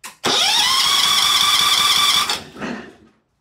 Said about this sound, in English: I still have my spark plug disconnected, so this isn't gonna start, but ready to try that starter out.